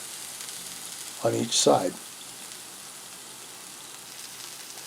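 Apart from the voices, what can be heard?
pork searing in hot oil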